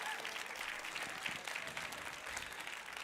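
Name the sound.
audience applause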